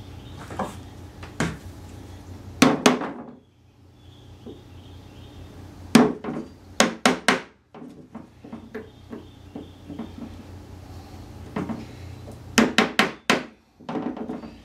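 Sharp wooden bangs and knocks as a piece of wood is struck on top of a cabinet, in irregular bursts, some in quick clusters, close and fairly loud with quiet gaps between.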